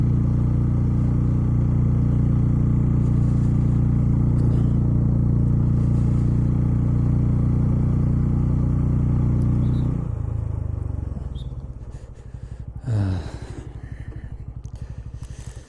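Motorcycle cruising in fourth gear on a road trip from India to Nepal, a loud, steady engine drone with wind that eases off as the bike slows, then a brief rising whine near the end.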